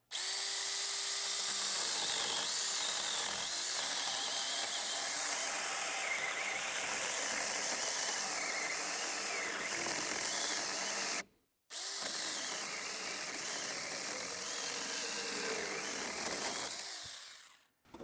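A Saker 6-inch cordless mini chainsaw bites into a log of seasoned oak at a campsite. It gives a loud, close, high-pitched buzzing whine that runs steadily, drops out briefly partway through, then resumes before winding down.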